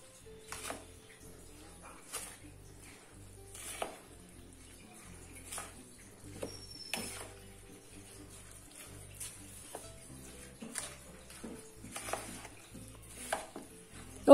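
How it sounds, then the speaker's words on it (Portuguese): A spoon stirring cupcake batter of sugar and condensed milk in a bowl, repeated scraping and sloshing strokes in an uneven rhythm, close and moderately quiet. "Agora é só misturar bem."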